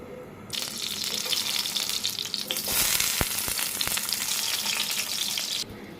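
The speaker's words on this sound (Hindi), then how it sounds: "नगेट्स फ्राई करते हैं इस पर।" Nuggets frying in a pan at home, giving a steady, loud sizzle and spatter that runs almost unbroken from start to finish with no voices over it.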